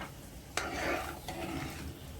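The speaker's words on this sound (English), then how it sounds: "you want to stir the pot so that the peas is incorporated with the rice." A spoon stirs rice and peas in a cooking pot for Jamaican rice and peas, with one sharp scrape, then soft scraping and gentle sizzling close by and no talk.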